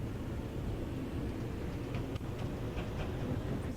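Tram in the OMSI 2 simulator running along the middle of a road, a steady low rumble of wheels and motor with faint rail clicks and a brief clunk partway through, continuous and moderately quiet.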